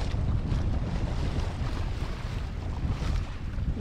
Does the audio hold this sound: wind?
yes